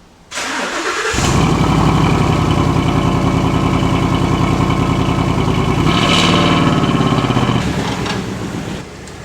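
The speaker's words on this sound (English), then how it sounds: "But first of all, a cold start." A 2017 Ford Mustang with 81,000 km on it cold-starts loudly nearby: a quick crank catches into a high, steady rev that holds, swells again briefly, then settles lower toward idle.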